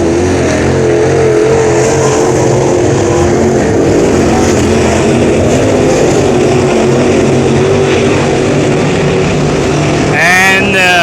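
A dirt-track race car at Brownstown Speedway roars loudly on its final lap, engine droning continuously with a public-address announcer talking over it, a higher whine rising near the end.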